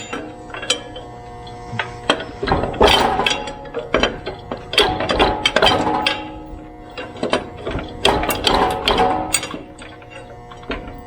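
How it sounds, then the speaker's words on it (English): Prying a pulley off the motor of a Troy-Bilt cultivator with the bolts removed: irregular metallic clanks, scrapes and ratchet-like clicks come in bursts, close and fairly loud, with no talking. "So now if I can pry the pulley off, the motor should be free."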